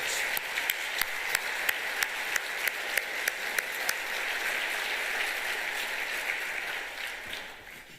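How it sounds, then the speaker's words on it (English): Sustained audience applause honors the police and fire chiefs at a state of the city address, a dense, even roar of clapping with one person's sharp, regular claps standing out early on before the sound tapers. "stand up for a round of applause"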